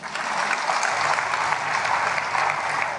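An audience claps together at a church gathering, dense continuous applause holding steady for a few seconds, close and full with no voices on top.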